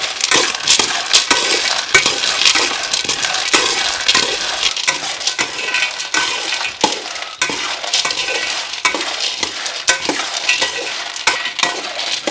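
Cocoa beans roast in a pan while being stirred steadily, giving a loud, continuous dry rattling and scraping with a faint sizzle, and no voices over it.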